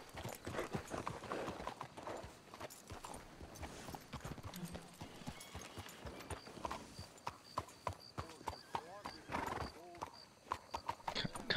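Hooves of a horse in Red Dead Redemption 2 clop in a rapid, uneven gallop, close and loud, with a brief whinny partway through and game sounds layered around the hoofbeats.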